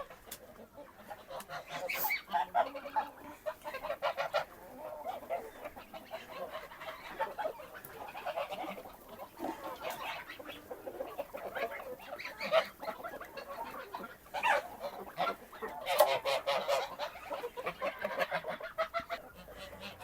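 Chickens clucking and squawking close by, with scattered louder calls from a busy flock and no talking.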